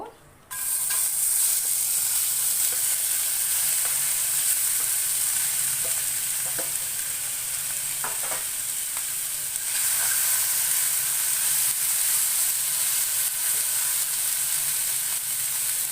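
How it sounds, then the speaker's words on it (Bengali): Steady, loud sizzling of prawns frying in a wok, with occasional stirring clicks and scrapes throughout. "একটা কড়াইয়ের মধ্যে আমি ওই চিংড়ি মাছগুলো নিয়ে নেব।"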